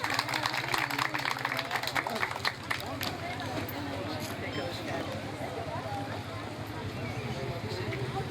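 Outdoor crowd applauding a mayor coming on stage at a Silivri fair event, with steady dense clapping that starts strong and holds throughout, alongside a voice talking over it.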